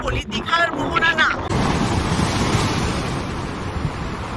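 Surf washing in at the Mandarmani river estuary on the coast, a steady broadband roar with wind buffeting the microphone; a person talks over the first second and a half before the waves carry on alone.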